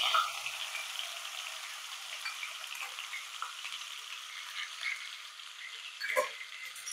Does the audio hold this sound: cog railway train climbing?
no